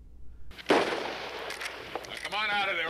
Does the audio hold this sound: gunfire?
yes